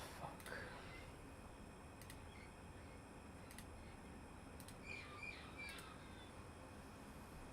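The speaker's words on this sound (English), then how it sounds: "why do I have seagulls in the back?" Seagulls call faintly in the background, a few short, distant squawks and cries scattered over steady low noise, with no talk during the calls.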